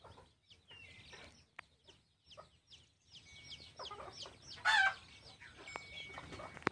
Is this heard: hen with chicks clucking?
yes